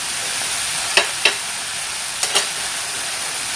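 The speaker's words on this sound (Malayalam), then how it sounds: "ഒന്നുകൂടി നന്നായിട്ട് വഴറ്റിയെടുക്കാം" Masala of tomato and quarter spoon turmeric being sautéed in a pan, a steady sizzle with a few sharp scraping stir clicks from a spoon at irregular intervals, close and moderately loud with no talk.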